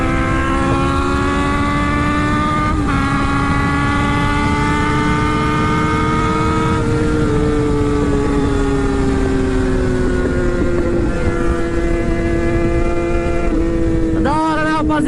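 A sport motorbike engine whines loudly and continuously at high revs, its pitch shifting with gear changes, while wind noise roars underneath, ending with a sharp rising rev.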